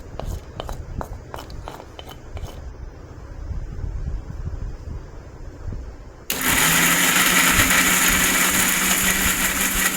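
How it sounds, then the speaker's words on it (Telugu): A mixer grinder blends onion, tomato, garlic and ginger into a paste, kicking in abruptly after several sharp clicks and a stretch of quiet kitchen background, then running as a loud, steady whirring roar to the end. "తర్వాత వీటిని మిక్సీకి వేసి మిక్సీ పట్టుకుందాం"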